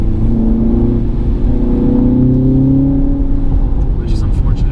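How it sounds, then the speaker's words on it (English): 2018 Audi TT engine drone heard from inside the cabin on a wet road, a steady rising hum under acceleration with constant road noise, fairly loud and close, with a voice talking over it. "It just routes the engine noise to the cabin of the car."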